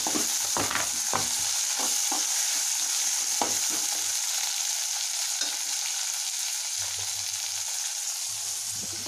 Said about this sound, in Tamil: தக்காளி வதங்கி, வெங்காயம் வதங்கிச்சு